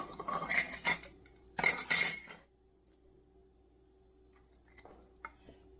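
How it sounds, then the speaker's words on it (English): Sterilized metal canning lids are set onto jars of green beans, heard as a couple of loud, close metallic clatters and clinks, then a quiet pause and a few soft, faint taps. "So now I'm going to take the lids. And I'll put these on. These are the sterilized lids."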